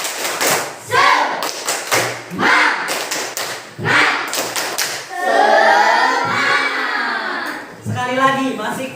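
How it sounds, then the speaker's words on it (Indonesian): A class claps out a rhythmic spirit cheer, tepuk semangat, in loud, close bursts of hand claps and thumps, interleaved with children's and a teacher's voices. "Kita tepuk semangat dulu, oke?"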